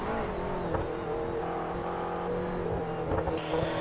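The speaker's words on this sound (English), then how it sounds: "So we're now riding with James Keane over the top of the mountain in the McLaren." A McLaren GT3 race car running over the top of the mountain at Bathurst, heard from onboard: a steady, loud engine drone with small shifts in pitch and brief blips, continuous for a few seconds.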